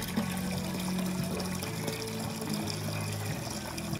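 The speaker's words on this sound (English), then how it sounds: "To cook the crabs, we first filled a big vessel with water." Water pours into a big cooking vessel outdoors, a continuous rushing fill with a rising hollow tone as the level climbs, heard close and alone.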